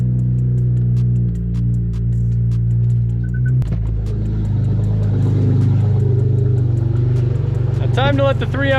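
A BMW F80 engine hums steadily up close, with a brief thump partway through, then revs up sharply near the end.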